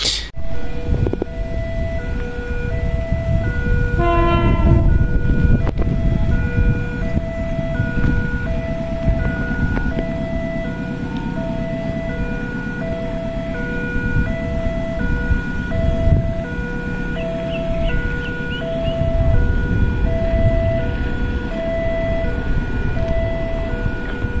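The Tawang Alun economy-class train passes through Ranuyoso station, a loud continuous rumble of wheels and carriages with a sharp horn blast near the start and repeated, evenly spaced bell-like warning tones ringing across the whole passage.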